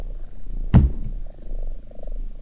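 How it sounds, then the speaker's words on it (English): A cat purrs in a horror video game set in a church, a single short, loud, rumbling burst standing out over a low, steady game ambience. "Why am I hearing a cat purring?"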